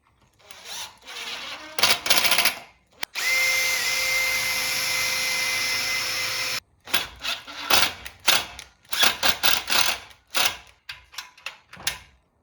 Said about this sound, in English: I'll probably drill 2 new holes in there so we can get 4 screws in there